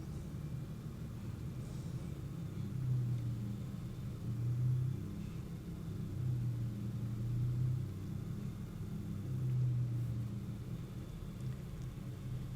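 Steady low engine rumble of an aircraft taxiing at Annecy airfield in Microsoft Flight Simulator 2024, droning continuously with gentle swells in level, no voices over it.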